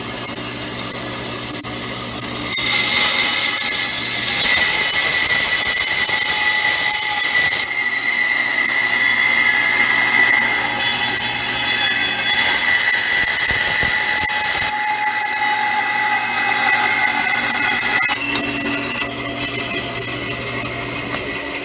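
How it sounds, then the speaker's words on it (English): A bandsaw whines loudly while cutting, its blade hum interrupted by brief pauses as material is fed through in several passes. "that will be done on the bandsaw also"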